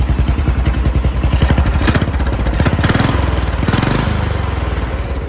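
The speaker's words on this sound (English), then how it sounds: "it's running pretty good, idling good, nothing wrong with it." A small single-cylinder engine on an MTD riding lawn mower, a full auto build with a pulley swap, idles steadily at close range, its rapid even chugging loud with a slight clatter.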